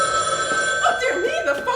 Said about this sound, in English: Oh, dear me, the phone!